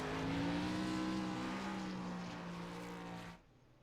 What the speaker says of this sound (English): there's the burnouts I was waiting for there from the 72